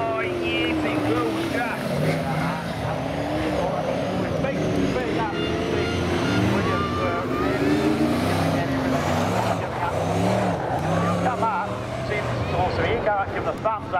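Saloon race cars on a circuit run side by side in a drag race to the finish, their engines roaring loud and continuous throughout, with a commentator talking over them.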